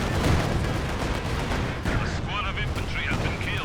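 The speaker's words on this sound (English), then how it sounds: "Comes the Katyusha barrage now, going after the pack and getting a really good connection" A Katyusha rocket barrage in Company of Heroes 2 fills the scene with a dense, continuous rumble of launches and impacts, and a few whistling streaks rise over it.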